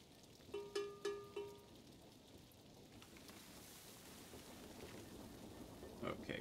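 Rain falls as a steady soft hiss in the city-building video game Kingdoms Reborn, joined early on by a few short game interface tones and a faint later rumble.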